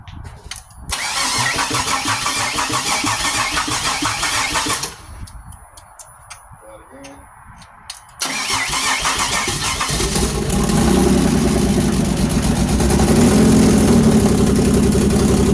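A 2006 Pontiac Grand Prix with a swapped-in supercharged V6 cranks loudly with a rapid starter whir, pauses, cranks again, and then catches into a steady, rough, close idle.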